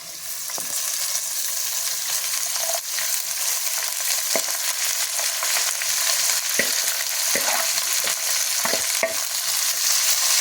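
Banana flower sautéing in a hot pan for a fish curry, giving a continuous sizzle broken by repeated scraping strokes of a stirring spoon.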